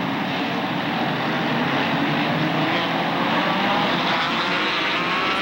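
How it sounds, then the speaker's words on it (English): ARCA SuperCars at Kil Kare Speedway in 1995 accelerate together at a green-flag restart, a loud, steady, dense engine roar from several cars sustained throughout with no break. "They pick up the throttle, the green flag comes out, and we are racing once again"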